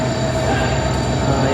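A train pulls out of Dharwad railway station, its steady loud rumble of rolling wagons and wheels filling the space continuously, with a faint high squeal above the low roar.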